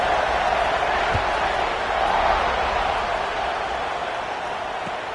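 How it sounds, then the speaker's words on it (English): Steady roar of a video game football stadium crowd buzzing after a score, a continuous loud wash of massed voices running through without a break, fading slightly toward the end. "this crowd is buzzing after that last score"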